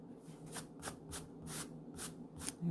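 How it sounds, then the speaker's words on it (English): A pencil eraser rubbing out lines on paper during a watercolour mixed media drawing, a series of short soft swishing strokes in a steady back-and-forth rhythm, quiet and close. "And I'll erase this tummy line here."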